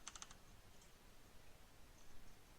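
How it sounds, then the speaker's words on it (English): Quick burst of keystrokes on a computer keyboard, a few rapid clicks close up at the start, then a couple of faint taps over quiet room noise. "If I can type."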